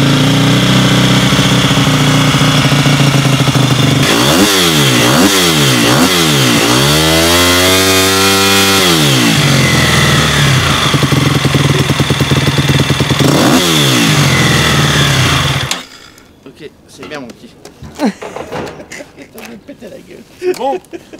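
A Triumph TF250 X motorcycle engine revs loudly and repeatedly close by, climbing and falling through several sharp revs and a long sustained pull before cutting off abruptly, leaving quieter ambient noise and faint sounds afterward.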